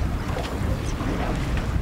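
Steady, loud wind buffeting over a rough sea aboard a fishing boat in the Hauraki Gulf, New Zealand, a continuous roar of rushing air and water with no clear breaks.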